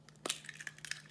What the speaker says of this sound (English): I'm going to just crack the 2 jumbo eggs